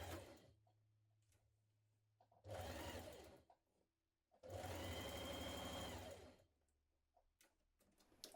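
A sewing machine stitches a shoulder seam on a jacket in two bursts, a short run and then a longer one, with quiet pauses in between and no talk.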